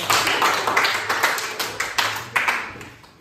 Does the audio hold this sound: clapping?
yes